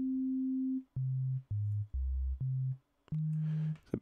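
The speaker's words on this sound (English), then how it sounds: "Each of these operators generally produces a sine wave only, as you can hear there." A series of pure, smooth sine tones from a single FM synthesizer operator, six short notes at shifting pitches separated by brief gaps, the last one trailing into a faint hiss.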